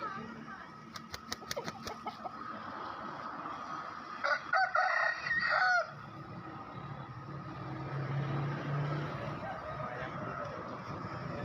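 A rooster crows at an outdoor chicken market, a loud nearby call of about two seconds. Voices chatter and traffic noise and other fowl sounds run through the busy background.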